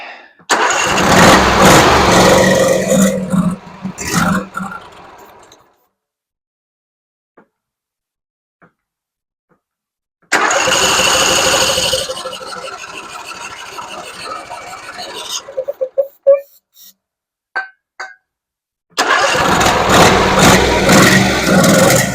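A Husqvarna zero-turn mower engine cranks and catches in three loud bursts, sputtering and revving briefly each time, separated by near-silent pauses with a few faint clicks and pops, as the choke is worked.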